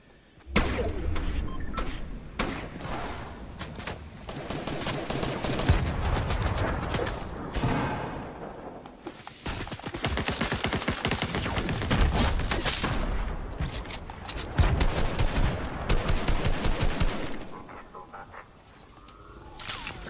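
Grenades going off in the video game Fortnite amid a dense, chaotic barrage of rapid bangs and crackling blasts that come in loud bursts with short lulls between them.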